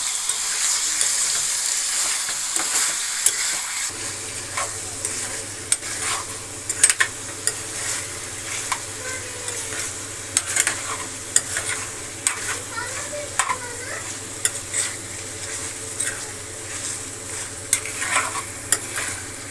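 Chicken pieces frying on a high flame crackle and sizzle continuously, with frequent sharp clicks of a spatula stirring against the pan and a low burner hum underneath.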